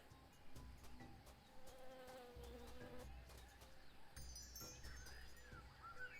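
Buzzing jungle insects, bees among them, hum steadily through a jungle scene in the video game Tales of Monkey Island, with a layered, continuous drone and faint tonal ambience throughout.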